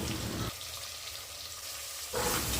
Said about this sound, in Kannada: ಟೊಮೆಟೊ ಎಲ್ಲ ಸಾಫ್ಟ್ ಆಗೋವರೆಗೂ ಫ್ರೈ ಮಾಡ್ಕೊಳ್ಳಿ